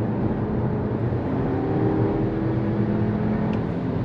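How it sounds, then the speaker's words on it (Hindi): Audi Q2 engine accelerating under way, a steady broadband drone with a low rumble and rising tonal bands, continuous and fairly loud with road and cabin noise, no talk. "this kind of engine response जो नॉर्मली आपको स्पोर्ट्स कार में ऐसी फील आती होगी"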